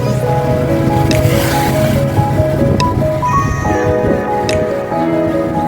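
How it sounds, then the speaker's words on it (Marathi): River water flows steadily beneath a bridge, a broad continuous rush heard from above, mixed with wind and a faint musical tone in the background. "वाहतं पाणी बघा"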